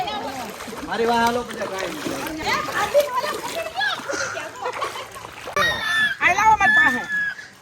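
Splashing water as people wade across a rain-swollen river, repeated sloshes mixed with children's voices and excited talk close by.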